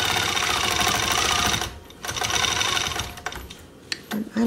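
A hand-guided longarm quilting machine stitching a Dear Jane quilt block, running as a loud, fast, steady mechanical whir that briefly stops, resumes, then trails off into a few scattered knocks.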